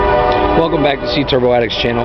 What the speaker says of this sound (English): excuse the train. I live right next to the train tracks.